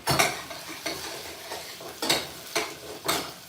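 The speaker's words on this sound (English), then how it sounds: "When my onions are still cooking," Onions frying in a pan for a sauce to go with yam in a Nigerian home kitchen, a steady sizzle broken by about six sharp stirring scrapes at a regular rhythm, close and fairly loud, with no talking.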